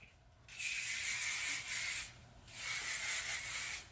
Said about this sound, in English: Put on a little hairspray.